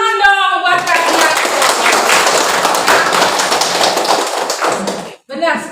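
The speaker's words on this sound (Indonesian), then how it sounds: "tepuk tangan dong buat kalian" Students in a classroom clapping together, a dense, loud burst of applause that runs for several seconds and then stops abruptly, with a voice speaking briefly before and after.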